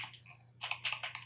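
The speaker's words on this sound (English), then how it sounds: "So start by typing equals" Quick clicks of fingers typing on a computer keyboard while entering a spreadsheet formula, a few soft taps followed by a faster burst of keystrokes, close and quiet.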